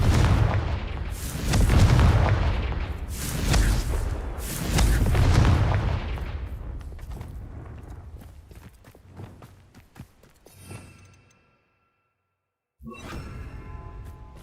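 Confringo fire spell blasts in the video game Hogwarts Legacy, a series of loud booming explosions in the first several seconds that fade into smaller crackling impacts, then a brief silence and a further burst near the end.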